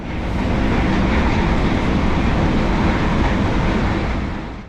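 Steady, loud rolling rumble inside a loco-hauled FlixTrain carriage in Sweden, a continuous broadband roar of wheels and track running evenly throughout with no voices.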